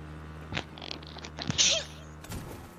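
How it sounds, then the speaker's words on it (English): A single short sneeze close to the mic while playing Fortnite, a sharp burst among a few soft knocks and thuds. "was that a sneeze?"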